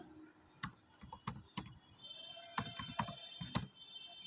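Keys clatter on a computer keyboard while text is entered in a graphics program, a run of close, uneven taps with a few sharper strokes and brief pauses, quiet and alone.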